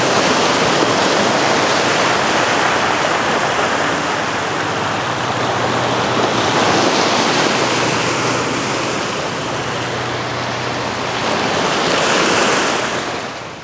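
Waves from the wake of the Twin City Liner on the Danube wash steadily and loudly close by, a continuous rushing surf mixed with wind noise on the microphone.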